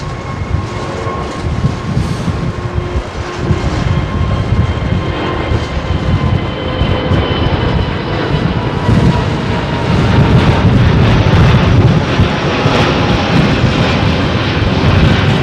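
Freight aircraft at London Heathrow Airport, a loud, steady jet engine roar that swells toward the end, with no talking over it.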